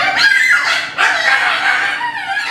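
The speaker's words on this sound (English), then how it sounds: "More specifically, macaws, doves, chickens, and parakeets." Macaws, doves, chickens and parakeets packed to the ceiling inside an auto tire shop keep up a loud, dense chorus of overlapping squawks and calls, dipping briefly before swelling again.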